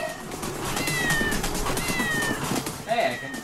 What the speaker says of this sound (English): I just found out I can make meow.